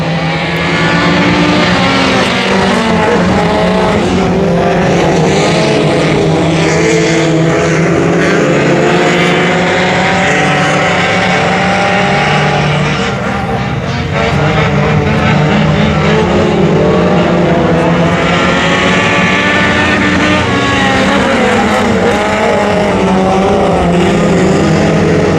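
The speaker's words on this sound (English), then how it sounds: "Hornet heat race number 1 underway here." Hornet class race cars in a heat race at Brownstown Speedway during the Bobby Wilson Memorial event roar loudly and continuously, several engines overlapping and swelling as the cars pass, with no talking.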